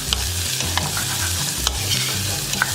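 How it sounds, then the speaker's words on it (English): A single garlic clove sizzles and crackles steadily in a hot frying pan, a close, continuous fry with occasional sharper pops and stirring scrapes, no voices. "And the garlic goes in, just using one clove."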